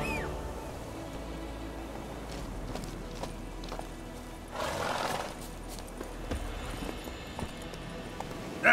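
Roach, a horse in the video game The Witcher 3, moves with soft hoof clops over a steady ambient game bed, with a brief swell midway and a short whinny-like burst at the end.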